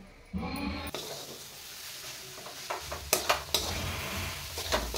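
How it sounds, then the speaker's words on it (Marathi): Grated coconut filling and jaggery stirred and roasted in ghee in a pan for modaks, with a continuous soft sizzle and several sharp spoon scrapes and knocks against the pan. "आता आपल्याला हा गूळ विरघळेपर्यंत हे असं सतत हलवत राहून परतून घ्यायचंय"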